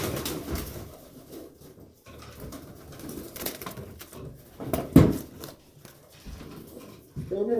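Racing pigeons coo in a loft, soft repeated throaty coos with rustling and handling noises close by, some brief low voice activity mixed in.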